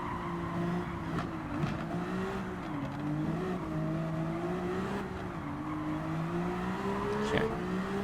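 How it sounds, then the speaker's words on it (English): A Ferrari Vision Gran Turismo V6 engine in Gran Turismo 7, lapping the Nürburgring, drones loudly and continuously, its pitch rising and dipping through gear changes and corners, with faint tyre noise underneath. "for a V6 it does make a good sound"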